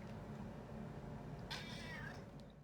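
A cat gives a single short meow in a quiet garage, faint and alone against a steady low background hum.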